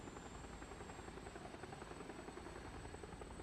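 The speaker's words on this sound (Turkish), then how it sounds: "Bak öbür tarafa doğru uçak gidiyor." Steady droning aircraft engine in the PUBG Taego map, a continuous airplane hum holding at an even level throughout, moderately distant and alone with no voices.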